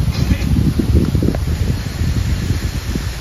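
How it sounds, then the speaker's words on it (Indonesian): Strong wind blows on a jungle river trip during a fishing expedition, a loud, gusty rumble buffeting the microphone continuously throughout. "Ini kencang angin."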